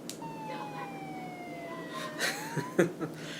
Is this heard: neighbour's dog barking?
no